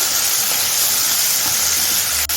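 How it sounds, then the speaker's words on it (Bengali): Cut potatoes dropped into a hot pan with onions already browned, a loud, steady sizzling hiss close by that continues without a break, ending with a brief clatter. "এখন আমি আগে থেকে কেটে রাখা আলুটা দিয়ে দিচ্ছি এটা এক মিনিট ভেজে নিচ্ছি"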